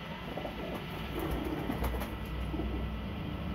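Golden pigeons coo softly and repeatedly, a low, steady murmur at a modest distance with no talk.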